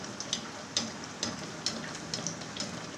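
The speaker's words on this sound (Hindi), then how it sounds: "मैं गर्म ऑयल में डालती हूँ। ऑयल मेरा गर्म हो चुका है। अब मीडियम आग पे इसको पकाएंगे।" Naan made with besan sizzles in hot oil over a medium flame, a faint steady crackle with small irregular pops and spits, heard alone with no talking.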